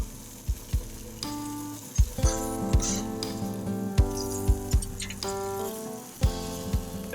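A wagyu ribeye sears on the grill of an open smoker, a soft steady sizzle sitting under repeated sharp clinks and knocks from tongs and metal grates as the steak is turned.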